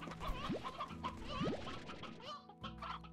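Chickens cluck and squawk in the Slime Rancher video game, busy overlapping fowl calls over steady game music and effects, fairly constant throughout.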